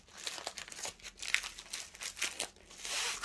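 Crinkly plastic adhesive backing being peeled away from a sticker-like piece, a run of close, irregular crackles and rustles with brief tearing bursts, no talk.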